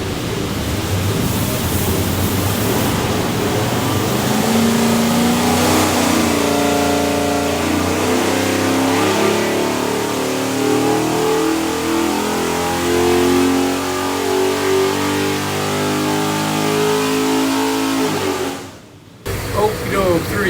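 A Ford 427ci Windsor V8 with a Holley Hi-Ram intake on an engine dyno for a Cobra, a loud engine pulling and climbing in pitch through a long run before cutting off abruptly near the end.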